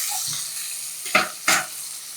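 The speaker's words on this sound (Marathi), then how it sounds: "आता कांदा हलकासा मऊ होईपर्यंत आपण परतूयात." An onion sizzles in a pan over a tempering of popped mustard seed, cumin, asafoetida and curry leaves for Maharashtrian masale bhaat, with a steady hiss and two distinct stirring scrapes near the end.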